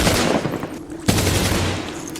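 A single sharp gunshot cracks out midway through a dense wash of noise, loud and close in a tense dramatized scene.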